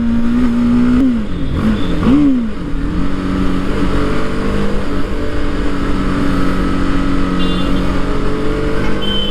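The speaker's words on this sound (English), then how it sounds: "the exhaust note is sweet" A 2020 BMW G 310 GS single-cylinder motorcycle engine rumbles loudly and steadily, its exhaust note briefly rising and dipping as the throttle is blipped, then settling into a constant drone.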